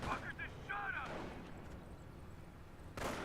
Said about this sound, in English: there it goes. It was incendiary mortar.